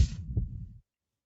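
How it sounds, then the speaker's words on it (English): A heartbeat sound effect from the video game Vambrace, a single deep, muffled thump with a soft low throb that fades out within a second and leaves silence. "That heartbeat."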